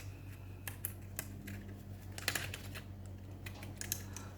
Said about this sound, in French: Je le fais avec le ciseau cranteur, c'est pour faire de la fantaisie